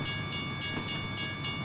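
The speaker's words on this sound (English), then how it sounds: "got trains going by." A train passing by, steady rumbling with regular clacking of wheels over track joints roughly every half second, sustained at a moderate distance and heard alone.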